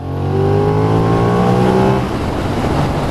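A 2020 Benelli 752S 750cc motorcycle accelerates hard, its engine note climbing loudly and close through the revs before easing off into a steadier roar.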